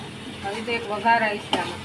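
Spices hit hot oil as a tempering for chole, a short sizzle with stirring clatter close by, a brief crackle bursting near the end.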